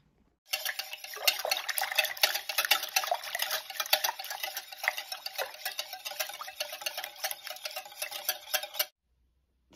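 Cake batter of sugar, flour, warm milk, cacao powder and a little salt being mixed for a chocolate butterfly cake, a steady, fast scraping and ticking of a utensil against a bowl that runs continuously for about eight seconds, then stops.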